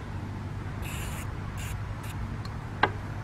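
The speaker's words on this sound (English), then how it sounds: "so I'll just spray a little bit of WD-40 over that" WD-40 is sprayed in several short hissing bursts onto a freshly painted 3/4 inch vintage Jaguar spanner, followed by a sharp tap, over a low steady hum.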